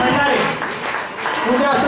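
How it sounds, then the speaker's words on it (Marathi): Applause at a degree distribution ceremony, a dense burst of many hands clapping that swells, dips in the middle and rises again, with a voice mixed in. "त्यांच्यासाठी जोरदार टाळ्या वाजवूया"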